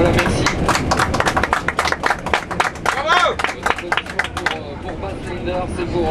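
A crowd at the 24 Hours of Le Mans race in 2010 claps for the arriving Ford GT, a dense burst of applause over steady crowd noise and loudspeaker talk that thins out toward the end.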